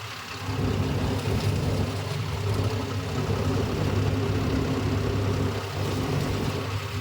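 A 2025 John Deere 5405 tractor with an oil clutch runs steadily nearby, its diesel engine giving a continuous low rumble at an even level for the whole stretch, with no voices over it.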